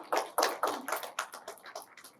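A small audience at a briefing session in a hall claps, around eight or nine sharp hand claps in a loose rhythm that thin out and fade, fairly close and without talk.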